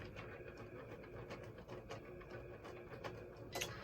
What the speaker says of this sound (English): now it's starting to cut. So it takes a minute